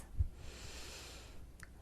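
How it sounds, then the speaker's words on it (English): A big, deep cleansing breath drawn in near the microphone, a broad airy rush lasting well over a second with a short snort-like burst at the start, heard alone with no talking. "big, deep, cleansing breath like this"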